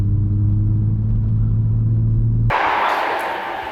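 A Toyota Supra MK5 engine runs as a steady low rumble inside the car, then the sound abruptly switches to a brighter, broadband road and engine roar that gradually eases off.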